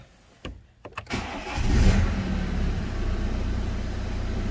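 A BMW 118d with the N47 diesel engine cranks briefly with a few clicks, then catches and settles into a steady, close idle, with no talk over it.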